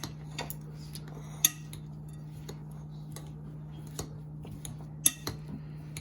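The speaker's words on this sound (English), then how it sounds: "So you just give it kind of like a quick smash. And then when you put your sauce, you're gonna mix it all together." Cooked potatoes being mashed and mixed with guajillo chile sauce for potato tacos, giving soft scraping and faint clinks of utensil against a pan, with a couple of sharper taps over a low steady kitchen hum.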